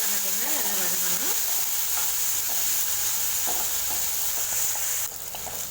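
Chopped tomatoes sautéing in a pan with green chillies while green gram curry is being made, giving a steady close sizzle with occasional stirring scrapes; a voice speaks briefly near the start.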